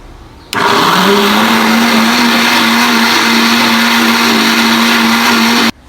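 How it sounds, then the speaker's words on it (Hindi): An electric blender grinds mango with milk for a fruit custard recipe: after a brief quieter moment the motor kicks on hard, roaring loud and steady with a humming pitch, then cuts off abruptly near the end. "और इसमें हमने डालना है आम, हम इसे करेंगे ग्राइंड।"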